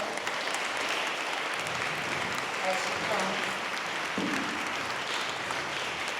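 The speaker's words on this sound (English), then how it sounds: "Let's give her a hand clap" An audience applauds at a Tampa community ceremony honoring Black-owned business owners, a steady wash of clapping running under a voice speaking over it.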